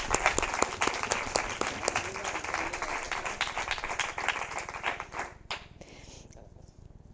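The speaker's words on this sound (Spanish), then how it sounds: "Eso, un aplauso." Audience applause at a presentation of the GEM Spain 2025-2026 report, with lively clapping and individual sharp claps standing out before it thins to a few scattered hands and fades near the end.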